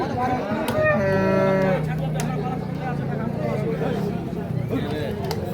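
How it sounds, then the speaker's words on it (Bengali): A Sahiwal bull at the Ambari cattle market lets out a long, loud, close moo over the crowd's babble, with people talking throughout. "এইখানে দেখছি আমরা এই গরুটা"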